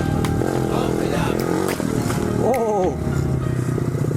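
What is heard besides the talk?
Honda CRF50 pit bike engine while riding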